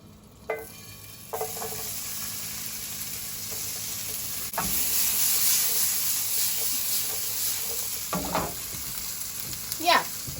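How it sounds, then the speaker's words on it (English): Peppers sauté in a hot pan, a steady sizzle that grows louder partway through as more goes in, with occasional clinks and scrapes of stirring and no talking over it. "Next, saute some peppers."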